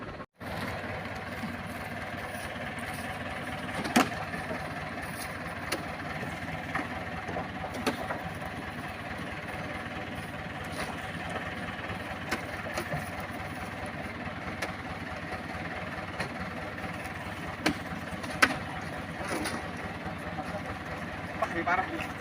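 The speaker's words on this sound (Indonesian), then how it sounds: "Traktor udah datang." A tractor engine idles and runs steadily at a palm oil fruit loading site, a low continuous mechanical drone with occasional clanks and knocks, moderately distant beneath people talking.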